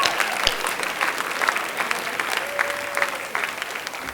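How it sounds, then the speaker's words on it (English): A school writers week audience applauds a presentation with steady, dense clapping across the room. Sharp individual claps stand out and the sound holds at a moderate level throughout. "give a big round of applause to everybody who's had some part of it."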